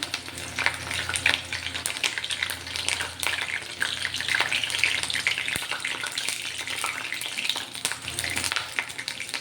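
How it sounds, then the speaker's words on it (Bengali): Curry leaves crackle and sizzle in hot oil while soya chunk pakoras are cooked, a steady dense spitting hiss that carries on throughout with small pops and no talk. "আর অল্প একটু কারি পাতা আমি তেলের মধ্যে দিয়ে দিচ্ছি"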